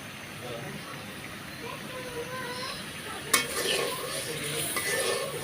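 Spice paste with plenty of green chillies sautéing in a pan, a steady close sizzle with stirring scrapes and a sharp clank partway through, fish curry with raw papaya being cooked.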